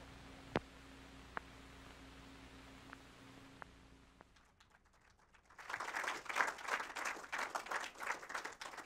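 After a few sparse clicks and a near-silent pause, a crowd at a film festival discussion bursts into steady, dense applause that carries on to the end.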